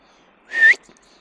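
A single short rising whistle blast from a shepherd commanding a sheepdog, loud and close, cutting through otherwise quiet outdoor air.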